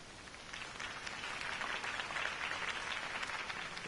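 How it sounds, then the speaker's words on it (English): Steady crowd applause in the video game Batman: The Telltale Series, a dense wash of many hands clapping at a distance, continuous and even throughout with no voices. "If only Mr. Wayne, my campaign's largest backer, could have heard that applause, he would well, there he is."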